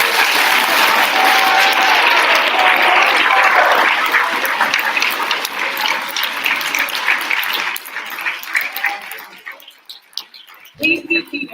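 Enthusiastic applause from an audience at a 2022 school awards ceremony honouring students, dense clapping that thins out and fades toward the end.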